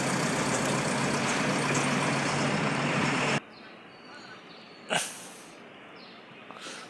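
A truck being moved and parked to the side in an industrial area rumbles loudly and steadily for about three seconds, then cuts off abruptly, followed by a single sharp hissing burst and quiet background.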